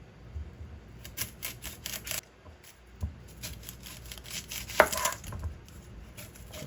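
A knife chops onion on a cutting board for a burger, a series of crisp, close taps in uneven clusters with short pauses and one sharper clack.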